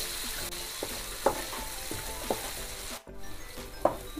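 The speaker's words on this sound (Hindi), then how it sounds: "अब इसमें मिलाएंगे हम शिमला मिर्च, टमाटर, मटर, और फिर हम इस सबको अच्छे से चला देंगे।" Capsicum, tomato and peas being stirred in a frying pan: soft steady sizzling with periodic spoon scrapes and clinks, a brief dropout near the end, no talk.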